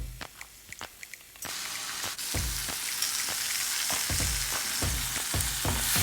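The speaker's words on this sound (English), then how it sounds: "Mix all the ingredients well." Prawn masala with tamarind pulp is stirred in a frying pan over a moderate flame. A few light knocks come first, then a steady close sizzle breaks in, with repeated spatula scrapes and clacks in a loose rhythm.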